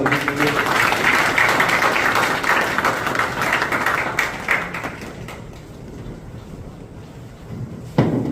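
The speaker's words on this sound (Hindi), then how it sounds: "जोरदार तालियां" An audience at a lecture hall event applauds, a broad wash of clapping that fills the first few seconds and then thins and fades, with a lone sharp knock near the end.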